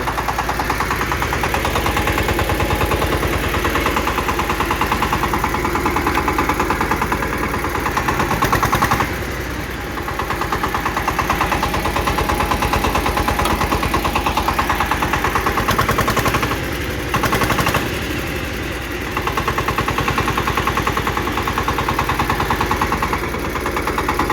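A Kentavr 244 4x4 mini tractor engine runs steadily and loud with a rapid rattling clatter as the machine drives off, with a couple of brief dips in the middle and no talking.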